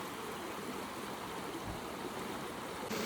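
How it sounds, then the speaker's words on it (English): A river at a protected site in Goa flows in a steady, continuous rush of water, close and fairly loud, with no voices over it. "it has this beautiful river which looks so nice"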